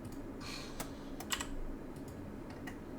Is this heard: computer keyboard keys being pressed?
yes